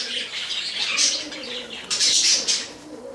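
Soft pigeon cooing close by, with a few chirps and a brief flutter of wings, no one talking.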